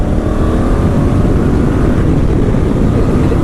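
A 2017 Honda Africa Twin motorcycle engine pulls hard under acceleration, a loud, steady, rumbling drone with strong low-end roar and wind noise throughout, no voices.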